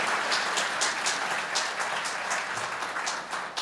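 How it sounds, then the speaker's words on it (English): Audience applause for a keynote speaker at an economic forecast event in Los Angeles, a dense steady clapping from a large crowd in a hall, moderately loud and sustained throughout. "Let's have a round of applause for Dr. Julia Coronado, our keynote speaker"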